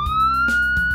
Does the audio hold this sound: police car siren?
yes